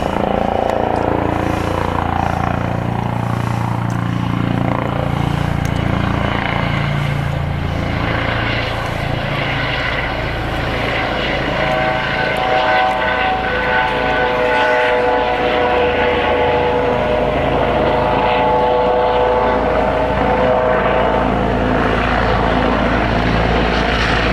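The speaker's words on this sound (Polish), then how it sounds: "helikopter ląduje." A Eurocopter medical rescue helicopter comes down onto a stadium pitch, its steady rotor and engine roar filling the air loudly and continuously, with no talk over it.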